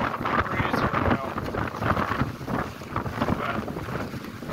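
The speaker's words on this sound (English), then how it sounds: "I don't know whether you guys can hear the wind in the background, but it's going crazy right now." Strong wind gusting across an outdoor building site of a custom house build, a continuous rough roar buffeting the microphone, with a voice faintly present beneath.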